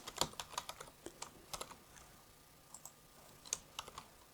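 Keys on a computer keyboard are tapped in irregular bursts while entering an Excel formula, with sharp, quiet clicks spaced unevenly and a short pause midway, no voices.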